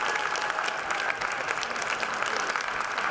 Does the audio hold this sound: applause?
yes